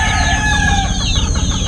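A talisahe gamecock rooster clucks and crows loudly and close by on a game farm, its harsh calls filling the moment over a constant low farmyard rumble.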